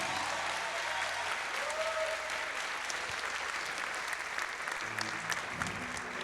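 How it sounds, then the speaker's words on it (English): Steady applause from an audience at a bouldering climbing competition, a continuous wash of clapping throughout with a faint voice briefly rising above it. "Round of applause for Daniel."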